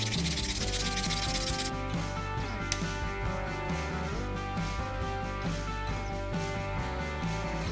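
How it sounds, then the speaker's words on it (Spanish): A small hand file scrapes material off the heavier side of a propeller being balanced, producing continuous rapid rasping strokes, close and fairly loud, with a steady tonal hum underneath. "quitando material en este lado con una lima pequeña"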